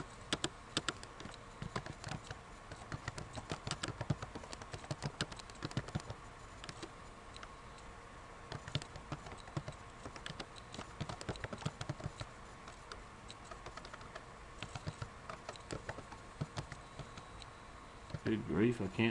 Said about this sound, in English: I can't type expenses all of a sudden.